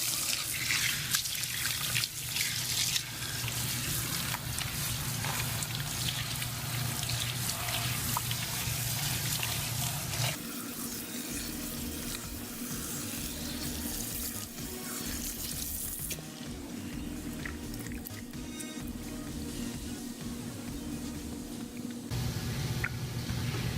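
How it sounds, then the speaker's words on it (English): Cool tap water running steadily over hair during a rinse, a continuous splashing rush that shifts in tone as the flow moves across the hair. "I'm going to rinse it with cool water so that I seal in all the nutrients into the hair."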